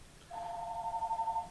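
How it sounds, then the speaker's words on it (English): A single steady telephone ring tone sounds at home, a clear electronic trill lasting just over a second, fairly quiet, with no talking. "And that's the phone."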